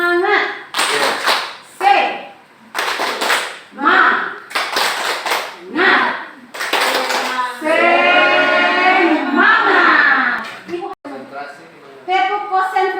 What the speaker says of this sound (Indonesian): Sekarang kita tepuk semangat ya Pak